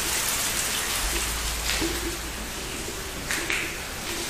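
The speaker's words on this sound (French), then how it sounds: "Vous entendez? Il pleut bien là." Steady rain pouring outside a holiday village house, a broad constant hiss of drops with a low rumble beneath and a few brief louder patters, heard from inside, with no speech.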